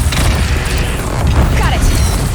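A Deathbringer machine firing in the video game Horizon Zero Dawn, a loud dense barrage of booming blasts and mechanical rumble filling the whole moment, with voices mixed in.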